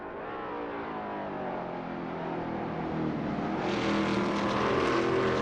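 Veloce GTS-8 race car engines lapping the Watkins Glen short course in a racing game, a steady loud whine that swells as a second car joins and draws nearer toward the end.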